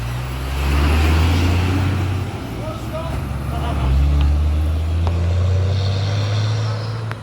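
A car drives along a road with a loud, close engine and tire rumble that swells and eases in waves, and a voice speaks over it.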